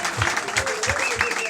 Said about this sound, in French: Je voudrais qu'on applaudisse bien fort pour la jeunesse congolaise.